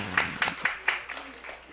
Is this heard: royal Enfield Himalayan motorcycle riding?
no